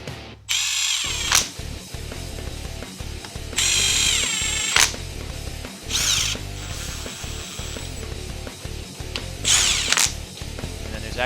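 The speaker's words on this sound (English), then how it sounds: "Now I'm going to run these in with the impact." An impact driver running in the head bolts on a Raptor 700 engine, firing in several loud repeated bursts of rapid hammering separated by short pauses, close up and with no talking.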